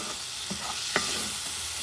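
Rice and beans are stirred in a pot under a constant close sizzle, with a soft scrape and one sharper knock of the spoon.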